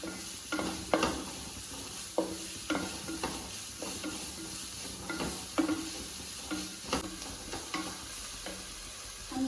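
Sliced onion frying in a pan for butter chicken, soft sizzling under repeated sharp spoon clacks and scrapes as it is stirred, close up with no talk.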